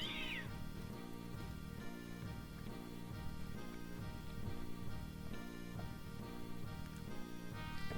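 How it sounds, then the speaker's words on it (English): A cat giving a short strained meow, as if being harmed, heard close at the very start over a steady rhythmic musical loop that carries on quietly for the rest of the clip. "Why does the sound of a cat being harmed accompany Kane?"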